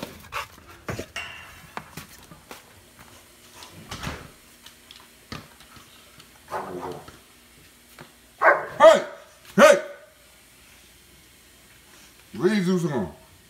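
Dogs at home bark in a few short, loud bursts between quieter panting, whimpers and scuffling, with a voice talking at times.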